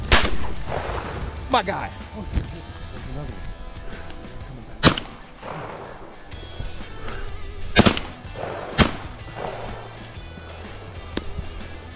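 Shotguns fire while duck hunting for mallards on Cape Cod in icy conditions, with several loud sharp blasts spaced irregularly over the clip, mixed with outdoor movement and a brief spoken remark.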